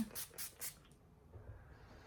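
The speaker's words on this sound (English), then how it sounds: "I'm gonna apply some more setting spray." Makeup setting spray is pumped in three quick, hissing bursts close to the microphone, each short and even, followed by quiet.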